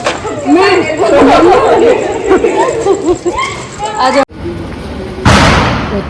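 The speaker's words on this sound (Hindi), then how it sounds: "क्या पटाखा था।" Lively chatter fills the first four seconds, then a brief hush is broken by a single sharp, loud bang of a firecracker going off nearby during Dussehra celebrations.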